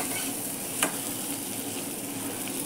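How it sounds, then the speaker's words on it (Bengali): Spice paste fries in a pan, a dense, even sizzle held close, with one sharp clink of a utensil early on and no talking. "মশলাটা কষানো হয়েই গেছে,"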